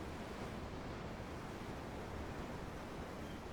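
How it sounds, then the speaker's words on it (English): Faint, steady ocean wash at sea in the video game Tales of Arise, a soft continuous rush of waves and wind with no distinct breaks and no voices. "The ocean? Yeah. The waves."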